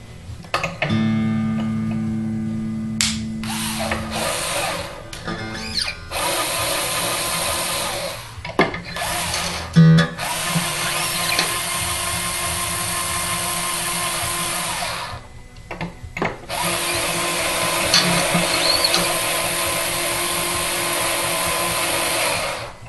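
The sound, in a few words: cordless drill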